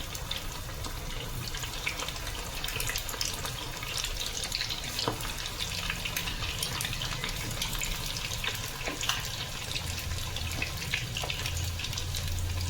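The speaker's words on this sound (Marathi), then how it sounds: "तेल तापलंय, आता याच्यामध्ये आपण भजी सोडूया." Egg pakoras, anda bhaji, bubble and sizzle steadily in hot oil, a dense crackling frying hiss running evenly throughout at moderate, close level with no talking.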